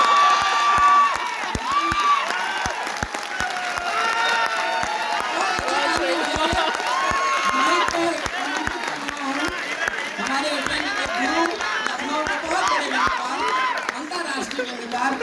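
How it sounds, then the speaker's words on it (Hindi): An audience at a comedy poetry gathering claps together, a dense patter of hands running steadily throughout with some cheering mixed in. "पुनः तालियां बजा के उनका स्वागत"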